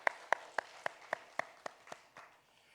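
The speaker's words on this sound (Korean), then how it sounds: "우리 하나님께 영광의 박수를 한번 올려드렸으면 좋겠습니다" A church congregation at an early-morning prayer service claps together in a steady rhythm, about eight sharp, evenly spaced claps that soften and trail off, fairly quiet and with no voices.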